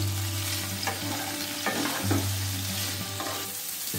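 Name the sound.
young jackfruit and potato frying and being stirred in pan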